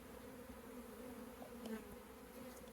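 Honey bees held in a mite wash jar buzz in a steady, faint, continuous drone, with a low hum and slight flutters throughout and no talking.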